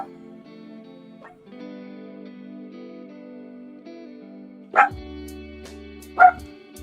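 A dachshund lets out two sharp barks, spaced about a second and a half apart, over a quiet backdrop of low tonal hum.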